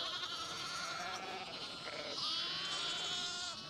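Around 150 lambs and 90 sheep bleat over each other in a continuous chorus during lambing, close and fairly loud, with a low rumble beneath.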